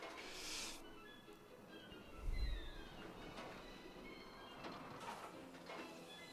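Trains rumble along a track in the Planet Coaster theme-park game, a low rolling roar with a brief louder swell midway, carriages clattering over a steady background hum.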